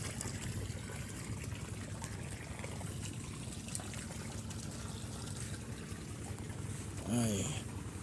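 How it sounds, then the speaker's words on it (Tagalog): Water flowing steadily into a rice paddy during irrigation, a faint continuous rushing wash that runs throughout, with a brief louder burst near the end. "Yan, nagpapatubig na naman tayo."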